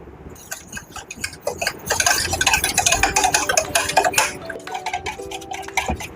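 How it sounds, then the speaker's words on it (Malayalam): A whisk beating batter in a bowl in a home kitchen while making chicken burgers, rapid clinking taps of metal against the bowl, close and busy, with a faint tone ringing underneath. "വിസ്ക് എടുത്തേക്കാം."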